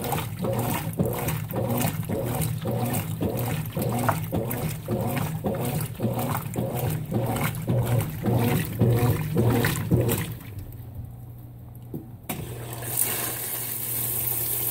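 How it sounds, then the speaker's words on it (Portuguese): A Consul 16 kg washing machine, full to the top with water and washing dish towels, churns in a steady rhythmic agitation. The agitation stops near the end and leaves a quieter hum. "A máquina lotada de água."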